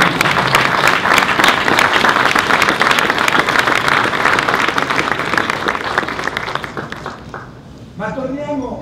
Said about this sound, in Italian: io vorrei fare un grande applauso alla squadra di Beppe e tutti quanti i compagni.